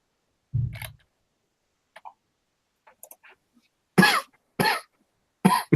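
A man coughs during a comic book commentary recording: a low throat noise first, then three sharp, close coughs spaced about half a second apart, with faint clicks in the quiet gaps.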